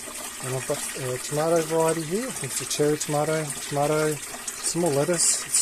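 Water trickling steadily through a solar-powered hydroponic tower growing lettuce, peas and cherry tomatoes, a soft continuous flow in the background beneath someone talking close by.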